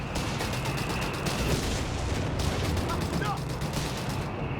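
Gunfire rattles through a Company of Heroes 3 video game battle, dense distant volleys layered in a constant loud battlefield roar, with a voice talking over it.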